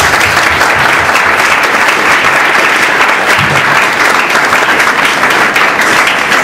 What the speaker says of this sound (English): So please, once again, give them all our enthusiastic round of applause.